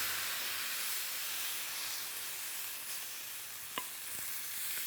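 Leeks sizzle steadily in a pan of olive oil, a loud continuous hiss with a brief knock of a utensil near the end.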